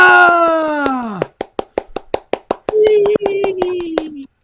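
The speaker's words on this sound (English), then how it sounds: "You could hear me clap" A single loud clap lands close to the microphone, surrounded by a dense run of sharp hand claps and a drawn-out voice sliding downward.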